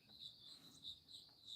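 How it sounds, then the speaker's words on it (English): Crickets chirp steadily in a high, shrill trill that pulses in repeated bursts, faint and continuous with no talking over it. "The crickets are really cricking though."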